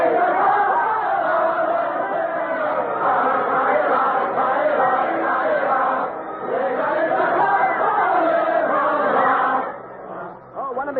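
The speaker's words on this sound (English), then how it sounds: "They're singing about hanging all aristocrats from lanterns." A crowd of revolutionaries in a Paris street sings Ça Ira, the French revolutionary song, many voices blending in a loud, continuous chorus that briefly dips midway and fades near the end.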